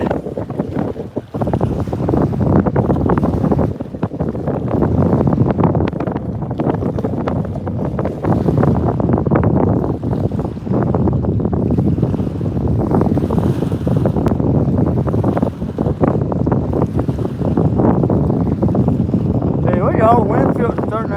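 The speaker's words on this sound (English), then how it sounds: "The wind feels starting to die down a little bit." Strong wind roars against the microphone on a boat over icy water during cold-weather blue catfishing, a loud, continuous buffeting rumble with gusty swells that fills the whole stretch.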